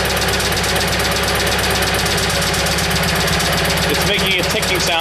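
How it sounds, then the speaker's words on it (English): A Simplicity tractor engine with hard-starting problems runs steadily and loud up close, a persistent ticking knock riding over its mid-pitched drone, with a brief shift in the noise near the end. "It's making a ticking sound and it's making a louder ticking sound too, so. Yeah, this engine is probably not so good."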